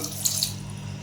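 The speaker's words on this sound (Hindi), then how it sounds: "इसमें मैं थोड़ा सा ये पानी शामिल करूँगा" Water runs steadily from a tap into a pot of boiled, tender white chickpeas, a close continuous splashing pour that lasts the whole second with no talking.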